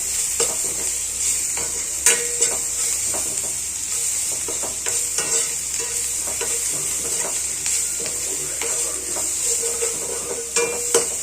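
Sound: roasting ginger-garlic paste and turmeric in a pan

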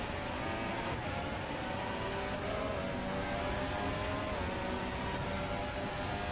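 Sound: F1 2014 car engine in F1 2022 video game

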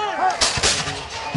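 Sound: volley of muskets fired in American Revolution battle reenactment

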